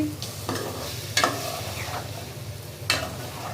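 Chicken biryani masala is stirred and sautéed in a pan, a close, loud frying sizzle broken by spoon scrapes and a few clanks against the pan, no voices.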